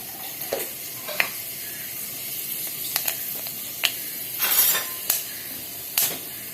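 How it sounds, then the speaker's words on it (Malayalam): Mustard seeds and fenugreek splutter in a hot pan for rasam, giving sharp scattered pops and crackles over a steady background sizzle, close and with no talking. "കടുകിട്ടിട്ട് 2 ഉലുവ പൊട്ടുക"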